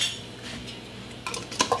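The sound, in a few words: glass canning jars of blueberries placed into water bath canner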